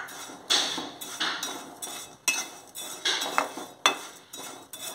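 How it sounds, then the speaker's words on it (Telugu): Bombay rava (semolina) dry-roasting in a pan, stirred with repeated scraping, clinking strokes of a utensil against the metal, coming in an uneven rhythm of about ten sharp strokes, close by, with no talking. "దీంట్లో వేగిన తర్వాత కొంచెం ఈ బొంబాయి రవ్వను కూడా లైట్గా వేపుదామండి"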